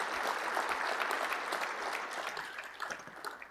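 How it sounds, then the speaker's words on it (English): Crowd applause at a tech keynote for the Angular community, a soft, continuous wash of many hands clapping at some distance that slowly fades. "All right, one more round of applause."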